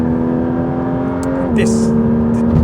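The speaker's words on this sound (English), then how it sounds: "The engine it just sounds so good." A Porsche 992 GT3 RS drives on a road. Its engine gives a loud, close, steady droning tone that briefly dips in pitch midway, as if shifting, then settles again.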